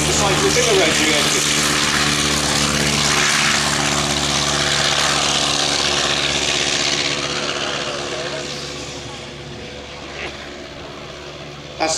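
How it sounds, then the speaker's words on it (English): A 130 hp Clerget rotary engine powers a Sopwith Triplane, a World War I aircraft. It makes a loud, continuous buzzing drone that holds steady and then fades gradually toward the end. "That's the sound of the 130 horsepower Clerget rotary engine"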